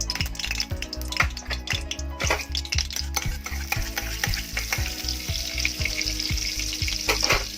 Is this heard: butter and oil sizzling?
yes